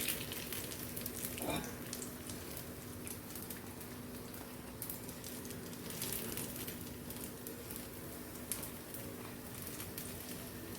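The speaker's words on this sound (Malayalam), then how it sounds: "ബാക്കിയും കൂടെ നമുക്കൊന്ന് പൊരിച്ചെടുക്കാം" Banana fritters, pazhampori, fry in hot oil with a faint, steady sizzle and soft crackle continuing evenly throughout, quiet and with no voices.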